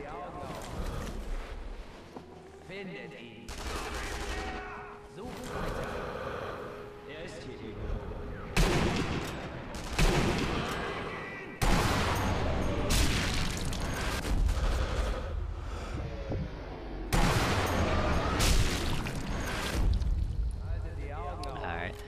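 Gunfire in the video game Sniper Elite V2, with heavy bullets sprayed in a rapid stream of loud, booming bursts and short pauses, close and dense throughout, over game noise and voices.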